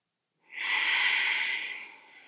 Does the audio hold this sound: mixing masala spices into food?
no